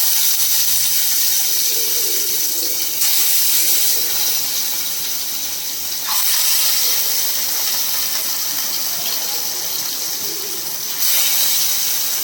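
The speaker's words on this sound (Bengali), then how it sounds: "এরপর ফ্লেমটা একটু কমিয়ে এবার আমি আস্তে আস্তে মাছগুলো ভেজে নেব।" Katla fish frying over a lowered flame in hot oil, giving a steady, close sizzling hiss throughout, with a few brief surges in intensity and no talk.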